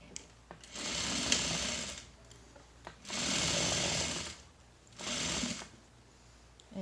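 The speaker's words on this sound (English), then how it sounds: "double check that your layers are lined up before you get started sewing" A sewing machine stitches a face mask from jersey fabric in three steady runs of close, even whirring, each about a second long, with brief pauses and small clicks between them.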